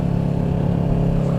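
A Kawasaki Ninja 650R (ER-6f, 2013) with a loud aftermarket exhaust, its engine note droning steadily and close, with a rough, crackling edge as it rides off throttle.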